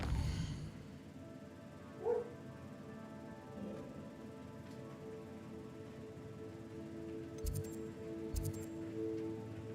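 Dogs in a home bark a few times at a distance, with short yips in the middle and near the end over a quiet, steady background hum.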